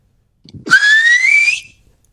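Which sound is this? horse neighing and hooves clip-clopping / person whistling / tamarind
person whistling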